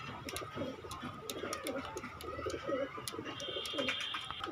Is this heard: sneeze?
no